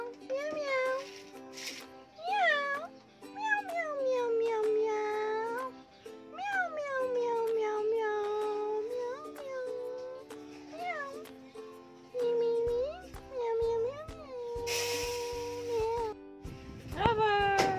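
Cat meowing repeatedly in a series of rising and falling, drawn-out calls, close and fairly loud, with brief gaps between them and a short burst of noise near the end.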